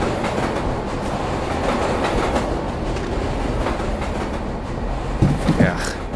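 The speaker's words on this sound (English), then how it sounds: "Are you saying trains, they just pass through here on the regular?" Train rolling past on railroad tracks, steady clattering of wheels over rail joints with a loud rumbling, some squeal near the end, and voices talking over it.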